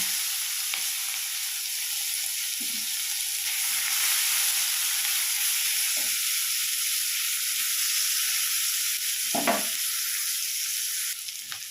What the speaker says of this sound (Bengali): পেঁয়াজটা আমি হালকা লাল লাল করে ভেজে নেব।